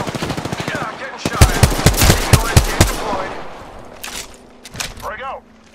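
Automatic gunfire in the Apex Legends video game, with rapid bursts of shots, a dense volley in the middle and scattered shots after, over game sound effects and a voice speaking.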